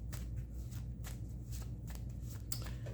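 Small playing cards being shuffled over and over, soft riffling flutters and taps with brief sharper snaps, close and steady throughout, with a low hum underneath and no talking.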